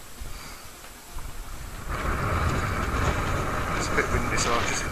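Strong wind gusts across an exposed hardstone quarry edge in the Yorkshire Dales, starting as a low rumble and building after two seconds into a loud, steady roar buffeting close to the microphone.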